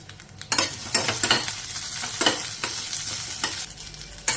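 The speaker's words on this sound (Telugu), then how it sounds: "పచ్చిమిరపకాయలు ఈ విధంగా వేగింది, చాలు" Green chillies, coriander seeds and cumin fry in a pan, with a steady close sizzle broken by repeated scraping strokes of a spoon stirring the spices, several sharp bursts spaced through the stretch.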